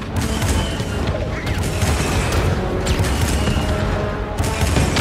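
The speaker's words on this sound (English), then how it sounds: "So that fires the cannons." Cannons firing in a Star Wars-style space combat video game, a dense, continuous barrage of booming blasts and crackling fire filling the whole stretch with steady loudness.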